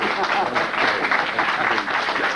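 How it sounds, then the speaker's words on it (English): A crowd applauds steadily to welcome Brother Amos Wilson onto the stage, a dense, even wash of clapping sustained from start to finish. "Everybody give Brother Amos Wilson a round of applause."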